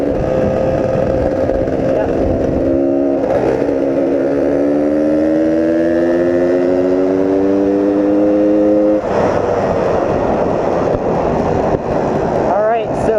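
Two classic Suzuki TS250 motorcycles cruise side by side at about 30, engines droning steadily with a rising hum, heavy wind buffeting throughout and a rider talking over the noise.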